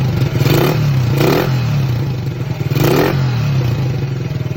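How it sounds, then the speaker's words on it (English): A motorcycle engine roars loudly and close, its steady throbbing drone swelling in repeated revving surges. "the answer is motorcycle."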